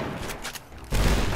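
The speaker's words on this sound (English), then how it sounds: "I'm actually using incendiary rounds on my grenade launcher." Grenade launcher firing incendiary rounds in Fallout: New Vegas, a dense burst of explosive gunfire and booming blasts that swells loudly after a brief dip, with no speech.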